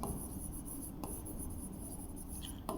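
Pen or marker scratching steadily across a board or paper during a lesson, a faint continuous rubbing stroke close by, with a couple of brief taps and no talk.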